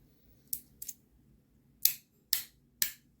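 An aluminum haptic fidget toy clicks sharply five times, crisp snapping sounds spaced irregularly over quiet background.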